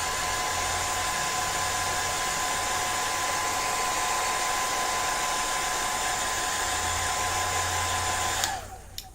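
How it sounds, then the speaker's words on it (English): A hair dryer blows steadily at close range to dry freshly painted smoke-effect nail art in gel and acrylic paint, a loud continuous whoosh that cuts off abruptly near the end. "Now I'm going to blow dry it just a little bit."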